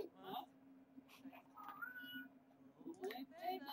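A cat in The Sims 4 gives short meows and whimpery cries at the start and later, faint and close, under someone talking in Dutch.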